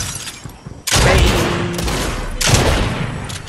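Gunfire in the video game Fortnite: loud, close bursts of rapid shots, one long volley followed by a second burst after a brief pause, with a quieter stretch of low noise before the first.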